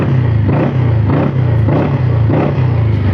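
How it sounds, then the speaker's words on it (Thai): Zontes 368K motorcycle engine revved repeatedly at a standstill, its exhaust giving a loud, gruff rumble that swells in several blips over a steady idle, with no talking. "เสียงท่อไอเสียค่อนข้างดุดันเร้าใจเลยทีเดียว"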